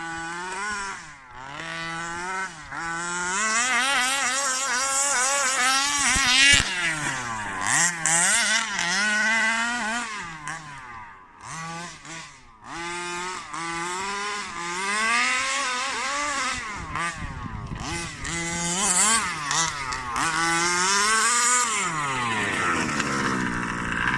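A Rovan Baja gas RC car with a 36cc engine driving hard, its small two-stroke engine buzzing loud and close, pitch rising and falling steadily as it revs up and down with no pauses.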